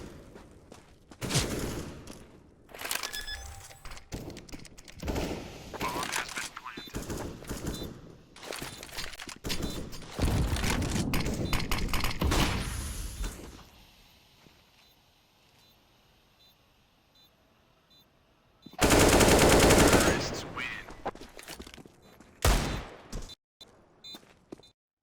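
AK rifle fire in a competitive tactical shooter match, with loud dense automatic bursts and fusillades, a quieter lull, then another intense close burst of fire.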